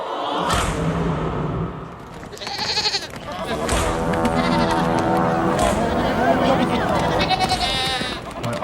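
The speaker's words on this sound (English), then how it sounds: "that looks very much to me like a herd of goats" A herd of goats bleats at a Roman arena spectacle, several wavering, overlapping bleats rising repeatedly over a loud, noisy crowd and commotion, with people talking throughout.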